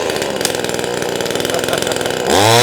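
A NEO-TEC 25cc two-stroke chainsaw with a 12-inch bar runs loud and close at a steady buzzing idle, then revs up sharply near the end.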